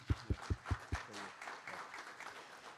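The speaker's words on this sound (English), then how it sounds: "I think an applause for the people especially," A small congress audience gives a brief burst of applause, a few loud distinct claps at first, then thinning into a soft scattered patter with faint murmuring.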